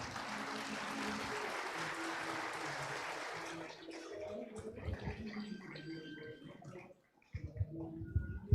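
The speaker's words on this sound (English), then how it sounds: "A big round of applause." Audience applause at a felicitation ceremony, a steady wash of clapping that fades after a few seconds into scattered claps and room noise, fairly faint and distant.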